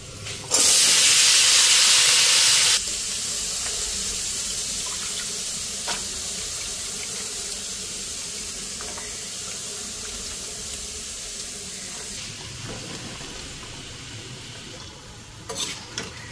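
Washed vegetables hit a hot pan with a loud burst of sizzling steam that lasts a few seconds, then settle into a steady, quieter frying hiss with faint occasional stirring scrapes and no voices.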